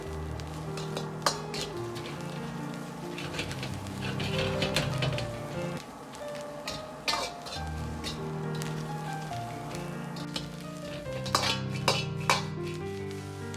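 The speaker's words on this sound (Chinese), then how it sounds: "炒至尖椒发软" Green chili peppers stir-fry in a wok with a little salt, a soft sizzle under scattered clinks and scrapes of the utensil against the pan, fairly quiet and steady.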